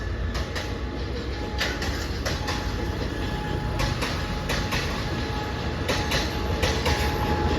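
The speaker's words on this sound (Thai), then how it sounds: "ก็จะมีขบวนรถเร็วที่หนึ่งเจ็ดหนึ่งนะครับผม กรุงเทพสุไหงโกรก" A Thai rapid train passes a railway crossing on Si Ayutthaya Road, giving a loud, steady rumble of rolling wheels with intermittent clacks and metallic rattles. It is close by and continuous throughout, with no speech.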